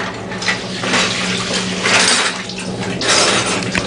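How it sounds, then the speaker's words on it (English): Compressed air blasting out trumpet pistons during a brass instrument chemical flush, a loud close hissing rush in uneven surges with metallic rattles and watery spatter, no voices. "So I've just sprayed out the pistons with a compressed air. It gets really loud when I do this"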